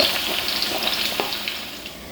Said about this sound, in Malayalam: ഒരു സവാള നീളത്തിൽ കനം കുറച്ചരിഞ്ഞത് വറുത്തെടുക്കാം